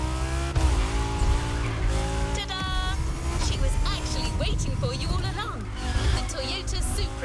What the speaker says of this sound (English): Toyota Supra A80 Special Edition.